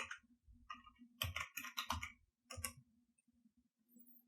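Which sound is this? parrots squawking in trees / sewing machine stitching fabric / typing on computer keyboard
typing on computer keyboard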